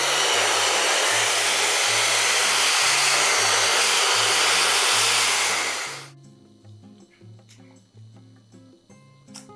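A hair dryer blows loudly and steadily for about six seconds, then cuts off abruptly, leaving a quiet room with soft background music.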